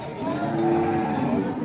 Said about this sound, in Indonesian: Wah, ini pada sapi limosin